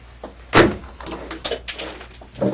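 A door in a police interrogation room opens and shuts as an officer steps out, a loud knock-like thud followed by several quieter clicks and bumps nearby.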